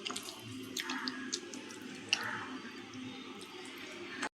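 Eggplant yogurt chutney, Andhra style, is mixed by hand or spoon, giving soft, wet squishing and squelching sounds with a few sharper clicks, close and quiet with no talking.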